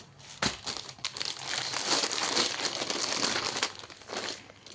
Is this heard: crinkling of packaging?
yes